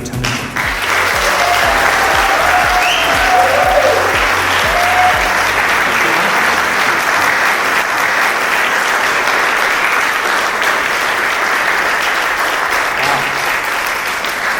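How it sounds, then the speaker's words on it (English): An audience at a small-town event in Britain gives sustained, warm applause, dense steady clapping that holds loud for the whole stretch after a brief voice at the start. "Such a lovely, warm round of applause."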